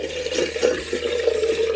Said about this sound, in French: vous pouvez utiliser une bouilloire comme celle-ci, où vous allez bien sûr remplir l'eau du robinet